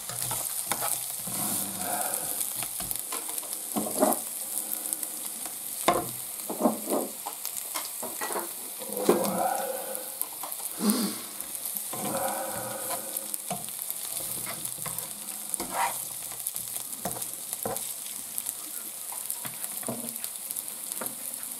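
Onions fry in a pan for a dopiaza with a continuous close sizzle, broken by repeated scraping and stirring knocks from a utensil across the pan throughout.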